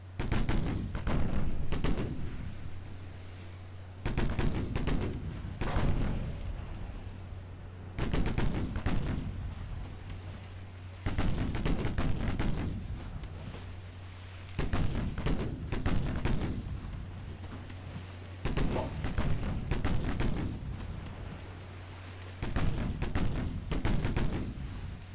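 Armor-piercing naval gun salvos in Ultimate Admiral Dreadnoughts boom repeatedly, about seven heavy blasts spaced a few seconds apart, each with a rolling decay over a low steady hum.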